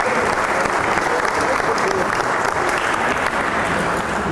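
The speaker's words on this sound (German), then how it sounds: "Applaus" Steady, dense applause from a crowd at a comedy brewery tour, sustained at an even level throughout with no pauses.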